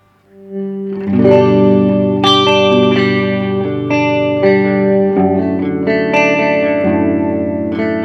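Electric guitar run through an effects pedal, sustained chords with a distorted, shimmering tone and spacious echo, loud and close, no voices.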